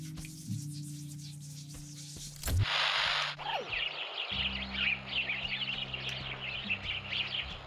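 Birds chirp in the Supraland Crash DLC video game, a busy stream of quick bright tweets following a short rushing burst, set over a steady low game hum.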